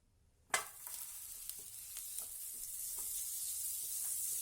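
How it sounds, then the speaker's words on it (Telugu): Butter dropped into a hot kadai used in place of a tawa for street-style tawa pulao hits with a sharp sizzle and then settles into a steady, building crackle with faint stirring ticks, heard close with no talk. "దీంట్లో నేను ఇప్పుడు బటర్ వేస్తున్నాను"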